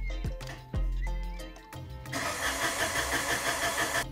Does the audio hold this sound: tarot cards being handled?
no